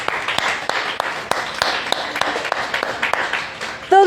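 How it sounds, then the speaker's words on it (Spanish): A church congregation claps in applause, a steady dense patter of many hands with sharper individual claps standing out, continuing for several seconds and ending as a voice begins. "Vamos a hacer un aplauso,"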